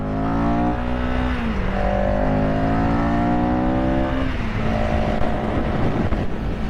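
A scrambler motorcycle engine revs hard toward high RPM, its steady drone climbing in pitch, easing briefly, then climbing again, loud and continuous from the rider's position with no talking.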